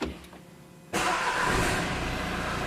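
A 2016 Renault Kadjar 1.5 dCi diesel, which has a fault where it will not rev up, cranks and fires after about a second of quiet, then settles into a loud, steady idle close by.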